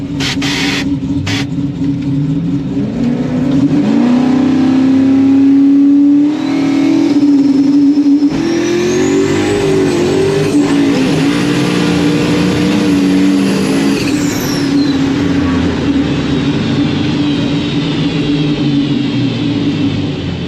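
A drag race car at a True Street no-prep event launches hard and pulls a small power wheelie, its engine roaring loud and close with rising revs for about twenty seconds and no talk over it.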